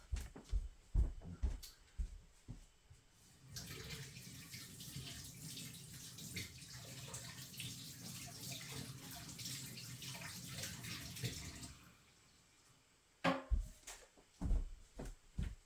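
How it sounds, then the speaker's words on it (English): Embossing supplies are rinsed under a running tap: a steady, close rush of water for several seconds, framed by small knocks and handling clatter before and after. "Now, really quick, I'm going to rinse these off."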